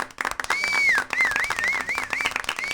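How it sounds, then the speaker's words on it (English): An audience applauds in a short round of clapping, a dense burst of hand claps with a sliding whistle-like tone weaving over it throughout. "Can we get a round of applause here?"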